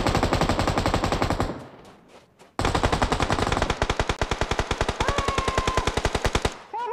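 Loud, close bursts of automatic machine gun fire in a shooting video game, a dense rattling stream that pauses briefly before resuming in rapid, evenly spaced shots.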